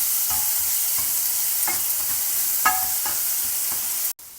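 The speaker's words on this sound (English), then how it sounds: "the remaining 1 onion, I have chopped it. Just saute this for about 2 minutes." Chopped onion sautés in a pan for a Madurai thanni chutney, a soft steady sizzle with intermittent scrapes and stirring knocks of a spoon, close and unaccompanied by talk.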